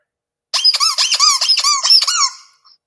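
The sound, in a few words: squeaking vintage Star Manufacturing sailor squeaker toy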